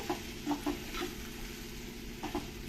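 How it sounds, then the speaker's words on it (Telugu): Boiled prawns with onion, tomato, salt and chilli are stirred in a pan, soft spoon scrapes recurring a few times over a faint steady sizzle. "బాండీలోకి వేసేసుకొని ఇప్పుడు మొత్తం అన్నీ ఇట్లా బాగా కలుపుకోవాలి"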